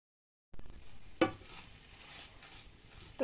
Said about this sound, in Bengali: এর মধ্যে আমি এই ডিমটা দিয়ে দেবো। একটু স্ক্রাম্বলড এগের মতো বানাচ্ছি